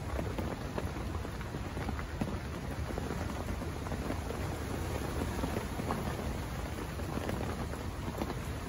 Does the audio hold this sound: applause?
no